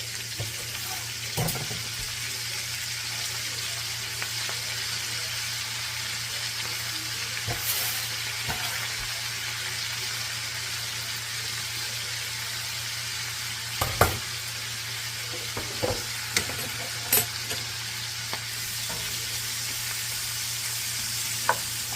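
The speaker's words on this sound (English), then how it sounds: "Now we're going to add the cabbage into the iron skillet with the bacon" Cabbage fries in bacon fat in an iron skillet with a steady, dense sizzle throughout. Occasional scrapes and clicks from stirring sit over a low constant hum.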